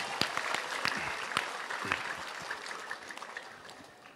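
Crowd applause with dense, crackling claps, loud at first and tapering slightly over a few seconds, with no voices on top.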